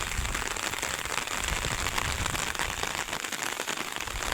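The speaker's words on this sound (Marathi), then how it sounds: "एवढा पाऊस चालू आहे गेले चार दिवस झालं" Steady rain falls on a custard apple orchard in a dense, even hiss with scattered patter of drops, continuous throughout with no voices.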